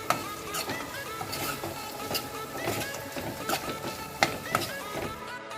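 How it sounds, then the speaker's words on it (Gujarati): Potatoes with turmeric and coriander-cumin powder are stirred in a pan for batata poha, with repeated scraping strokes, light clinks and a soft sizzle underneath. "હવે મિક્સ કરી લઈશ બરાબર."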